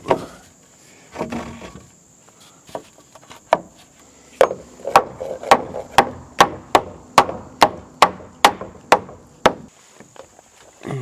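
Wooden center stud being fixed into a cabin wall frame at an off-grid mountain build, with a few scattered knocks and then a steady run of about a dozen sharp, close hammer blows on the timber.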